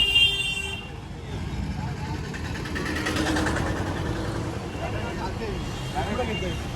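Electric rickshaws moving through street traffic in Ayodhya, with a low steady road rumble, passing vehicle hum and a horn toot, while people talk over it.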